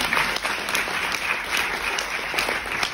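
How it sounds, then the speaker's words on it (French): Audience at a conference on death in Nouméa breaking into sustained applause, a dense, even patter of many hands clapping at close range without pause. "Ah oui, vous pouvez applaudir, elle sera contente."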